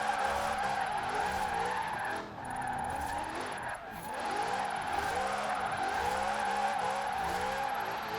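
Tyres on a Lexus RC F shriek continuously as it drifts at a big angle in third gear in Forza Horizon 4, a loud sustained squeal over a steady engine drone with rising and falling pitch.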